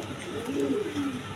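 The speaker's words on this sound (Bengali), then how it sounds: "দর্শকবৃন্দ এখানে 2টা ব্লু শার্টিং মাদি কবুতর আছে" Two blue shirting female pigeons, one crested and one plain, give low, rounded coos close by, one of them swelling through the middle over faint background hiss.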